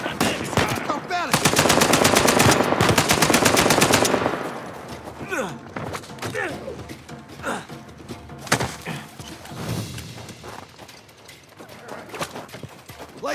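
Automatic gunfire in a shootout from the video game Uncharted, with a dense sustained burst early on followed by scattered shots and impacts, loud and close, with voices calling out in places.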